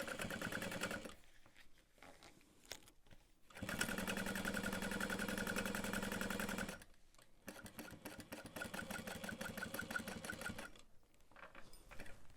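A sewing machine stitches a tote bag in steady rapid clattering runs, with short pauses between the runs and one faster, louder stretch in the middle, quiet and close with no talking.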